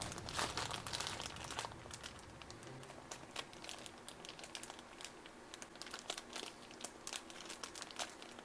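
A plastic bag crinkles and rustles in irregular bursts as it is handled up close while touching up the paint on an action figure, with crisp crackles throughout.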